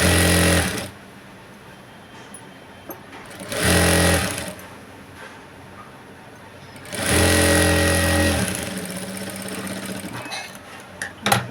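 A sewing machine double-stitches the edge of a blouse in three loud bursts of rapid mechanical whirring, separated by quiet pauses.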